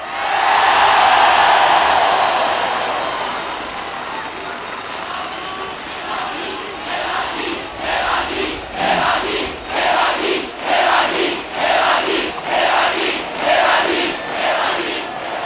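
Large crowd at a rally on SNP Square in Bratislava, first a broad roar of voices, then rhythmic chanting in regular bursts that pulse about once a second.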